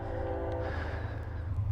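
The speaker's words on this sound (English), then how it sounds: "that's a coal train too" A coal train rolls by northbound, a steady low rumble with a faint horn-like tone early on, heard continuously at moderate loudness outdoors.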